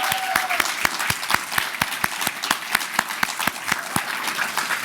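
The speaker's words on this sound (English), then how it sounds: "Please give him a round of applause." An audience applauds Hall of Famer Kevin Garnett at a leadership academy graduation ceremony. Loud, distinct claps sound in a steady rhythm over a softer crowd patter, with a faint whistle or cheer near the start.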